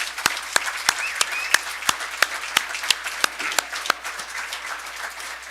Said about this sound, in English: let's have another big round of applause for our newest Hall of Famers